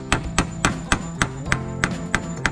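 A steady, fast series of hammer blows, roughly four strikes a second, ringing evenly and close by over a faint tonal background.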